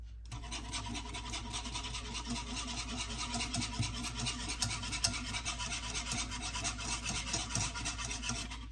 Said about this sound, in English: So I'm gonna use a whisk, right?